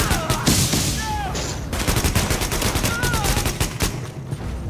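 Rapid automatic gunfire from a weapon in The Division, a dense stream of loud close shots with a few pauses and faint electronic game chirps over the top.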